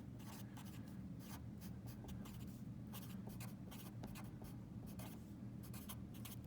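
A pen scratches across paper in a run of quick, close strokes with brief pauses, set against a low steady room hum.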